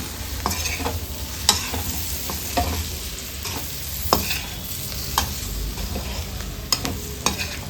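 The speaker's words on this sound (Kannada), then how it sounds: "ಮೇಲ್ಗಡೆಯಿಂದ ಸ್ವಲ್ಪ ಕೊತ್ತಂಬರಿ ಸೊಪ್ಪನ್ನು ಕಟ್ ಮಾಡಿ ಹಾಕ್ಕೊಳ್ಳೋಣ ಚೆನ್ನಾಗಿ ಮಿಕ್ಸ್ ಮಾಡಿಕೊಂಡು ಸರ್ವ್ ಮಾಡ್ಕೊಳ್ಳೋಣ" Chilli pork with chopped coriander gets stirred in a hot pan, a continuous sizzle with sharp spatula scrapes and taps recurring about every second, close and clear.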